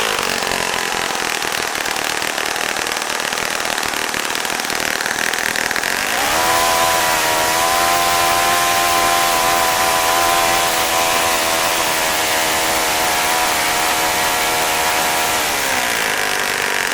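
Saito FA-65 four-stroke model airplane engine running steadily at high, buzzing revs, then settling into a lower, smoother drone as the throttle is adjusted; loud and close throughout with no speech.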